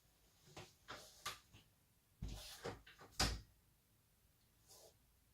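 A door shut and secured at Halloween: a series of soft knocks, clicks and latch rattles close by, irregular and fairly quiet, with a final faint click.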